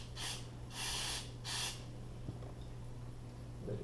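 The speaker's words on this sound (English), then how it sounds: "We're gonna spray it inside there." Aerosol cleaner sprayed into the terminals of a Harman Kardon amplifier from a 2007 MINI Convertible: three short hissing bursts close by, the middle one longest, then quiet with faint handling noise.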